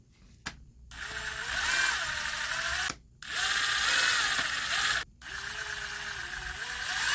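A DeWalt reciprocating saw, just fitted with a swapped armature, runs in three loud bursts of whirring motor whine, each separated by a brief silent pause, close by with no talk.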